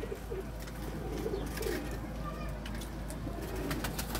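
Pigeons coo softly in a loft or coop, low murmuring calls repeating over a steady background hum with faint chirps and a voice in the distance.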